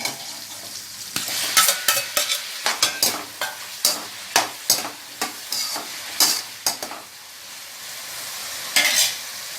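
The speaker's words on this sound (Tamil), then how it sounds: "வெங்காயம் நல்லா வதக்கணும்." Onions sautéing in a pan for chicken kulambu: a soft continuous sizzle broken by a long run of sharp, rhythmic stirring clatters from a spoon against the pan, close up and without speech.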